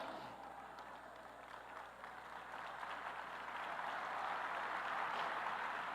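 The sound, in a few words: congregation applause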